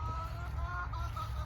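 Chickens on a farm cluck softly at dusk as they come in for the night, a low continuous murmur of hens with faint higher calls, steady and close.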